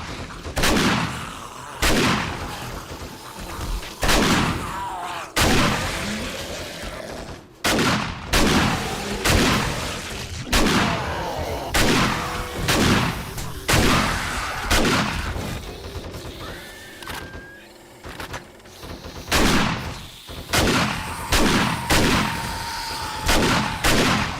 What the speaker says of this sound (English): Try to get the shotgun out.